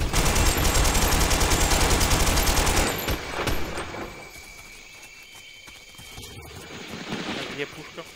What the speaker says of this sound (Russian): там где-то пушка долбает